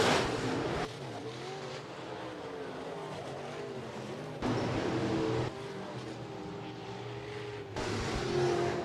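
B-Modified race cars at Rapid Speedway, a dirt track, roar past at the close of a heat race, engines droning and revving in overlapping waves, with louder surges as cars pass near.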